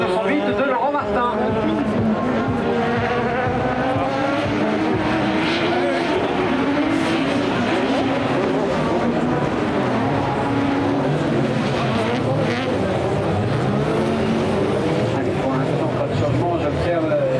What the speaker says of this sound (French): La 3e place est pour la Peugeot 208 de Laurent Martin.